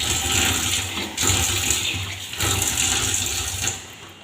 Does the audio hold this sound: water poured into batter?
yes